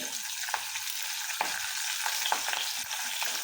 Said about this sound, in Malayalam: നമുക്ക് വേപ്പിലൊന്ന് വറുത്ത് എടുക്കാം